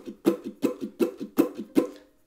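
Muted ukulele strumming with fingers resting lightly on the strings: a steady run of about ten dull, percussive chucks, alternating stronger and softer strokes, close up and alone, ending in silence.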